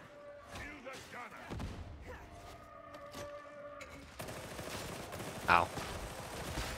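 Enemy gunfire in Warhammer 40,000: Darktide, a scatter of sharp shots and thumps mixed with bursts of fire, a short electronic tone near the end, fairly quiet overall in the game's combat din.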